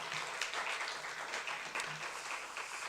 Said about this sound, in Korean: 우리 다시 한번 우리 학생들 큰 박수로 격려해 주시기 바랍니다.